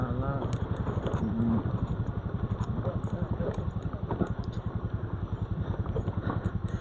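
A scooter engine putters and throbs with a rapid, even pulse on a rough offroad trail near Dhap Dam, close by, while people talk over it throughout.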